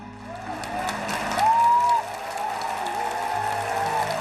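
Audience applause for a poet at a Hindi poetry recital, a steady spread of clapping that swells in the middle and then settles, with tonal background sounds running through it.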